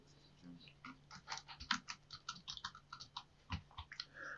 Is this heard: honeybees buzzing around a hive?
no